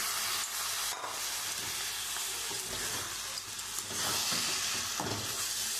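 Washed rice is stirred into a pan of spice paste being fried for a fish-head muri ghonto. A loud, continuous sizzle carries soft stirring scrapes, with no talk.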